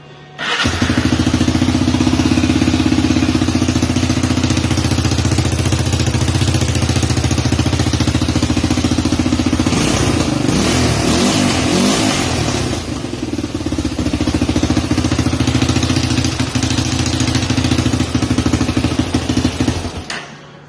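A loud, close Honda 300EX ATV engine idles and putters continuously with a raspy exhaust chuff from a leak at the exhaust donut gasket, revving slightly midway before settling back to a rough idle.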